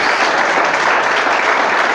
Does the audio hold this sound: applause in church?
yes